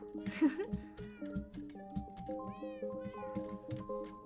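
A cartoon cat meows repeatedly in the video game Happy Home Paradise, the cries close and clear over a bouncy game melody, with a short squeal near the start and the music continuing throughout.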